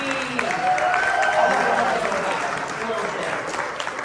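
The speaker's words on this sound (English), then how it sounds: "Another round of applause for Sassy." Audience applause fills a fursuit dance competition hall at Aquatifur 2022, a steady, dense clapping that holds for about four seconds with faint voices and a brief tone mixed in.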